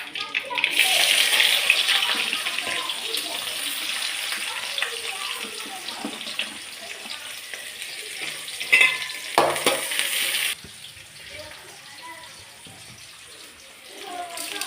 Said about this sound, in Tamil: வெந்தயமும் கடுகும் போட்டிருக்கேன்.